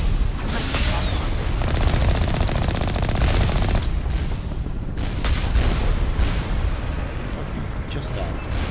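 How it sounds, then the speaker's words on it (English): Automated turrets in the video game Mass Effect open fire on the icy world of Noveria, a dense, continuous rattle of gunfire and blasts running loud throughout, with talk faintly mixed under it. "As soon as I hear the fucking turrets"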